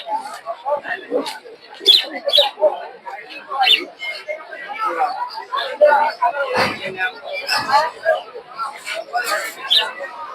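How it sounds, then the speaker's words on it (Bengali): Pigeons of many breeds, from local deshi birds to tumbling giribaz, coo and flutter at a busy Monday animal and bird market in Madhabdi, Narsingdi, under constant crowd chatter and nearby talk. "এদিকে বিভিন্ন ধরনের কবুতর দেখতে পাচ্ছেন দেশি থেকে শুরু করে গিরিবাস"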